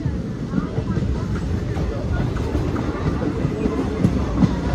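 A passenger train on the Anantnag to Banihal line rumbles steadily with a low, continuous roar and faint rail clatter, heard from inside the carriage with people talking over it.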